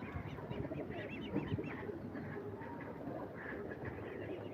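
A pigeon coos softly in a backyard coop with chickens and ducks, low faint calls repeating under steady background noise.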